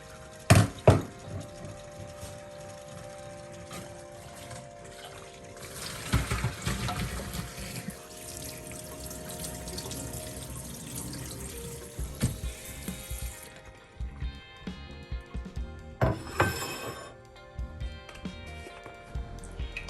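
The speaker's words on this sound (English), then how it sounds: "drain them in a colander and pour some cold water over them" Cold tap water runs and splashes over just-cooked, drained potatoes sitting in a colander for mashed potatoes, a steady rushing pour with brief louder bursts, close by and with no talking.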